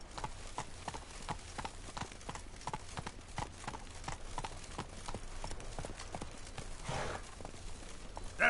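Hooves of Geralt's horse Roach clip-clop at a steady trotting rhythm on the ground in Witcher 3, fairly close and even, with soft game ambience underneath.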